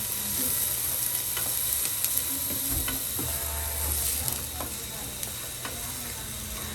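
Garlic frying in a pan, a dense continuous sizzle with scattered clicks and scrapes of stirring, loud and close, easing slightly toward the end.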